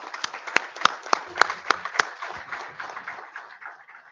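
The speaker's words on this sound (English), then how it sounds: "I request all of you to welcome with the applaud to" A small audience claps to welcome a speaker at a remote sensing lecture, a handful of sharp, close individual claps in a loose rhythm that thin out and fade within a few seconds.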